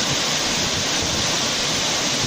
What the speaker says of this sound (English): very strong rain expected from a Category 2 hurricane turned into what I can only describe as standing below a waterfall